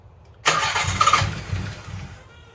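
A 1991 Nissan 300ZX engine cranks and catches with a sudden loud burst, then settles into a steady, close idle.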